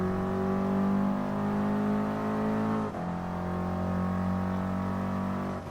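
An Alpine race car in the Gran Turismo Sport video game hums with a steady, tonal engine drone, briefly dipping in pitch midway before settling back into an even, sustained note with no speech over it.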